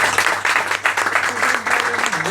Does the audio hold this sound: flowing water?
no